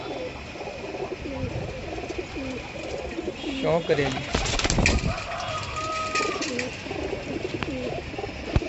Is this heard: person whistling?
no